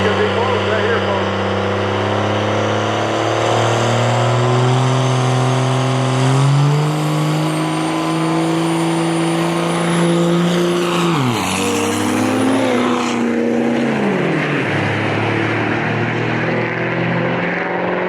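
Drag racing cars, a Dodge and a Ford, roar loudly at a racing event. The engine pitch climbs and shifts across the run, and an announcer talks over the engines.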